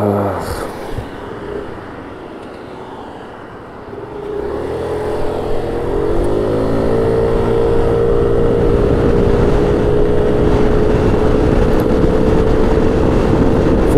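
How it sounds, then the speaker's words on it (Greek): A Yamaha NMAX 125 scooter pulls away from a standstill at full throttle, its engine droning and rising steadily in pitch as it gains speed, loud and close with wind rush. "Να κάνω μια επιτάχυνση λίγο από τα 0. Full γκάζι."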